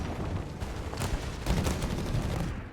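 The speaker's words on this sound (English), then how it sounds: "the machine gun there holding up the line here" Machine-gun fire rattles in the Company of Heroes 3 battle game, with dense bursts of shots and explosions crackling continuously at a loud level.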